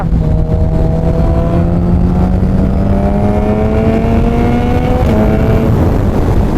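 A Suzuki Hayabusa fitted with a Dynojet Power Commander 6 revs loudly and steadily up close, its engine note climbing smoothly in pitch over several seconds before easing back slightly, with no talk.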